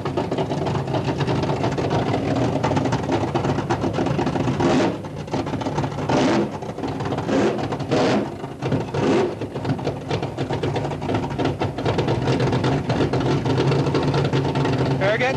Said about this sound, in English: they're sure heating them up.